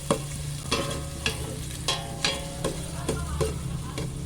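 Garlic and onions frying in a pan for spaghetti sauce, with a constant sizzle under a low hum and a regular series of spatula taps and scrapes about every half second.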